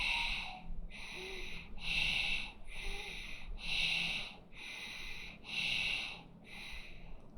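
Slow, even yoga breathing cycles through about seven audible inhales and exhales, each a close, airy rush of breath separated by brief pauses.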